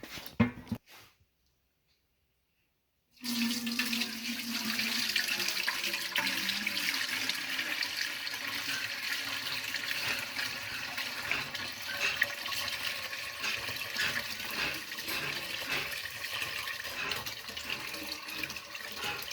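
Milk streams steadily through a cream separator, a continuous loud liquid rushing and gurgling that starts abruptly after a brief near-silent pause and runs unbroken to the end.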